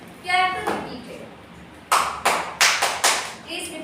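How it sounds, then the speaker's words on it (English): A teacher claps a rhythmic pattern in a classroom: a few faint opening claps, then a clear sequence of five or six sharp, close hand claps in an uneven rhythm, with a brief tonal ping early on. "Clapping pattern is that you can take. All of you can just listen to the pattern."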